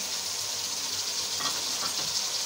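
Prawns frying with onions in a pan, a steady bright sizzle and hiss that holds even throughout with slight crackling swells.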